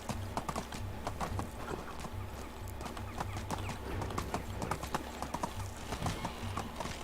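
A horse in the Medieval Dynasty video game clip-clops along at a steady walking rhythm, with loud close hoofbeats and a faint snort or whinny over a quiet background.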